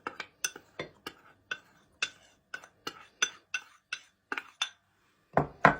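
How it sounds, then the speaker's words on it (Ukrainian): Rapid, repeated clinks of a spoon stirring milk in a metal pot, a steady rhythm of sharp, close taps with brief pauses. "розмішуємо."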